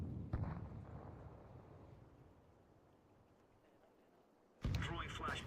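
A grenade explosion in Counter-Strike 2 hits with a sharp boom, then a rumble that fades over several seconds before a second loud, harsh blast near the end; the sound is fairly faint overall.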